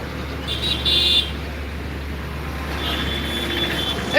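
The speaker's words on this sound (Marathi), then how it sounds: "ही गाडी इलेक्ट्रिसिटी डिपार्टमेंटाची." An electricity department truck idles steadily at close range, its low engine rumble running throughout, with a high, repeating reversing beep sounding in two bursts over it.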